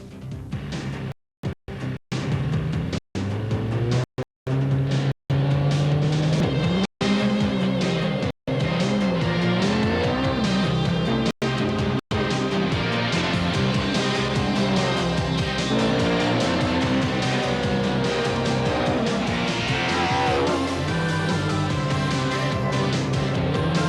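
Race cars climb the Shelsley Walsh hillclimb, the oldest motorsport event in the world, their engines revving and rising in pitch through gear changes, loud and close, with brief cuts in the sound early on.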